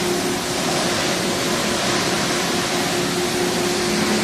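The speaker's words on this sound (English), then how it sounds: "I don't think you're going to see the vacuum pump." Vacuum pump of a Brown/Modern A60 used thermoformer running in a dim workshop, a steady, loud broadband hum with a low tonal drone, continuous and unchanging throughout, with no talk.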